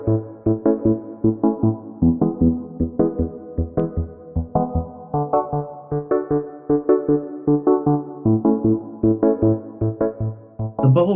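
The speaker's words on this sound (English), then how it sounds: "The bubble rhythm is a staple of reggae music" A reggae bubble rhythm on keyboard: short, bouncy, staccato chord stabs in a steady, busy pattern with regular accents, sounding alone and close for about eleven seconds.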